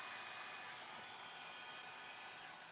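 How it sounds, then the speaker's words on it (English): A dryer is left running during a woodworking craft project, giving a steady quiet whooshing blower hiss of airflow that holds unchanged throughout, with no voices. "I gotta leave my dryer on so I don't have to keep turning it off and on"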